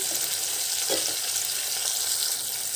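Tomatoes cook in an Andhra-style fish curry pan, giving a loud, steady, hissing sizzle with a brief stir in the middle.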